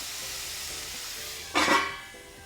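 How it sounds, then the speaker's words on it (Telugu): Onions frying in oil for a spinach and chana dal curry give a steady, even sizzle, with a short louder burst of crackle partway through before settling back; no one speaks. "ఒక ఫైవ్ మినిట్స్ ఉల్లిపాయలు ఇలా మంచి కలర్ వచ్చే వరకు వేగనివ్వాలి"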